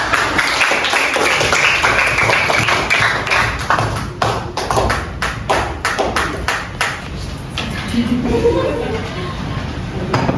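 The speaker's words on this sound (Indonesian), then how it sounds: "Beri aplaus dulu." Classroom audience applause during a guidance and counseling lesson, with a burst of clapping from a group that thins into scattered claps, heard under a noisy room.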